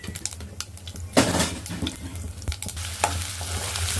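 Mustard seeds and cumin fry in hot oil in a pan with a close, crackling sizzle full of tiny pops. A stronger burst of spattering and a few spatula scrapes come through, with a low hum beneath and no voices.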